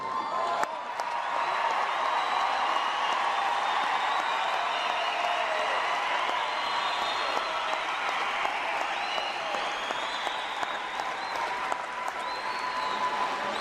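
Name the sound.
audience applauding the graduates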